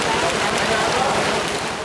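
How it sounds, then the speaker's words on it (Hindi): Steady, dense rain falls at a village home, a loud continuous hiss of drops on surfaces that fills the whole moment without pause. "बारिश ही बारिश"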